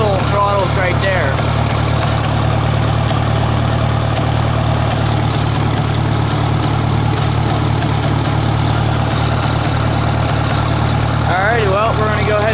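A Farmall MD tractor engine running at a steady idle, a loud, close, continuous low chug with constant rumble throughout, and brief voice-like sounds near the start and end.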